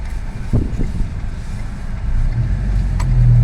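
A car cruising on a long road trip, a steady low engine and road rumble with wind noise inside the cabin, constant and fairly loud throughout, with no talking.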